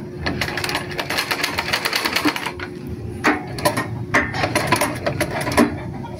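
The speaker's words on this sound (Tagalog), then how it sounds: "hindi nyo ito mapaikot ng diretso, maliban na lang kung paikutin nyo sa kamay ang balance wheel" A treadle sewing machine with its balance wheel turned by hand gives a run of rapid mechanical clatter, close and steady, with short pauses and a few sharper knocks.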